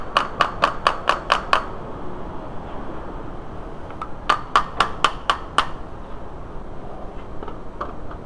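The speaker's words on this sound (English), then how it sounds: "just use your hammer and tap these guys out a bit" Light hammer taps on parts of a Volkswagen A4 ALH TDI alternator mount come in two quick bursts of about six sharp metallic knocks each, close and distinct, followed by a few fainter taps.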